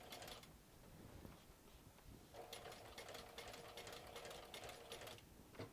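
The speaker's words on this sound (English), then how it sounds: "And I'm going to stitch around. I am going to back stitch at the beginning and end." A sewing machine stitches around fabric while making a crossbody bag, with back stitching at the start and end: a steady, close mechanical whir that hums on throughout, growing more insistent in the second half.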